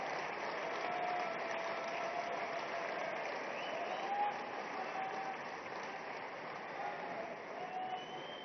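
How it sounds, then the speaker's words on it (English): A large summit audience applauds a prime minister's inaugural address, a continuous broad wash of clapping that stays steady and full throughout, slightly muffled. "Prime Minister of India, Shri Narendra Modi, with a thunderous round of applause for his inaugural address."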